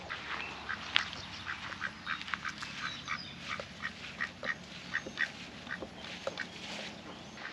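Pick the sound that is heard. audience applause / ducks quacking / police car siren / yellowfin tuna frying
ducks quacking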